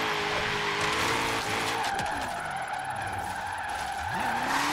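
A car drifts on the e-brake in a racing video game, its tires skidding and squealing steadily over a loud engine drone, with pitch sweeps as the wheels slide.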